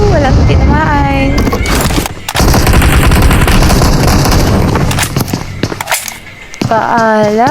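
Loud, sustained automatic gunfire from the PUBG video game, dense bursts with brief gaps, with someone talking over parts of it.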